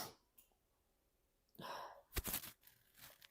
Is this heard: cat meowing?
no